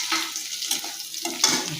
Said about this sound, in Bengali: হালকা হালকা ভাজা হয়ে গেলে চিংড়ি মাছের মাথাগুলো দিয়ে দিতে হবে।